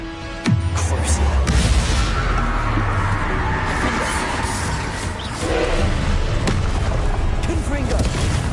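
A Confringo explosion spell cast in the Hogwarts Legacy video game. One loud, deep boom hits near the start, then settles into a sustained rumbling game soundscape.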